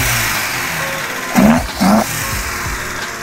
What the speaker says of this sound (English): And now we're going to rev the motor.